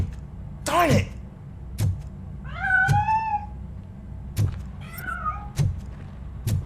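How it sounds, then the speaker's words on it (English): A cat meows a few times in RoboCop: Rogue City, two clear drawn-out calls near the middle and end, set among soft thuds and footsteps in a quiet interior. "That cat must be hiding inside."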